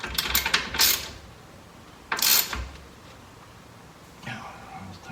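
A hand ratchet tightening a castle nut during rack and pinion replacement on a 2013 Toyota Avalon, sounding as short bursts of rapid metallic clicking separated by pauses, fairly close.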